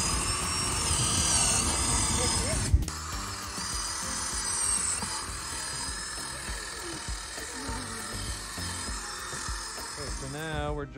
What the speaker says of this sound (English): so now we're drilling